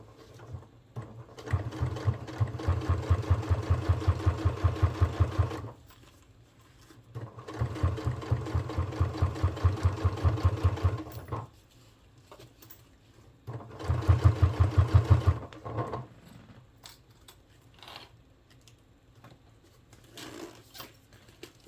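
A sewing machine stitches in three long rapid bursts of even mechanical chatter, separated by short pauses and faint handling noises.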